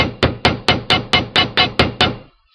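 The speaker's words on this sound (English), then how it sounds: "I'm going to hammer these bottom rounded parts so they can't come unbent again." A hammer strikes wire jewelry clasps nine times in a steady, even rhythm, each blow sharp, close and loud with a short ring, followed by silence.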